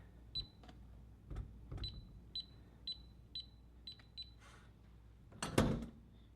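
Keypad presses on a SECURAM SafeLogic Wi-Fi smart safe lock give a quick run of about a dozen short electronic beeps, followed by a louder clunk and click as the safe lock releases, in a quiet room.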